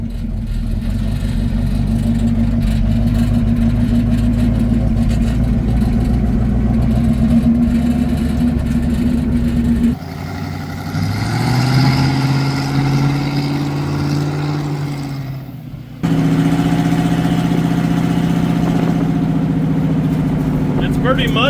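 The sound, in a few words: Ford Model A car engine running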